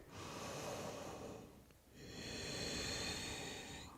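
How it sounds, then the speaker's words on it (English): Slow, audible breathing during a yoga practice held in a low squat position, two long airy breaths close to the mic with a brief pause between them. "We'll take a few breaths here."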